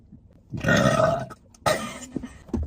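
Two close, loud burps from a young woman: a long drawn-out one, then a shorter one after a short gap, followed by a small throaty noise at the end.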